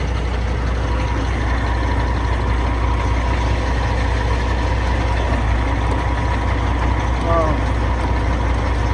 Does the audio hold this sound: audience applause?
no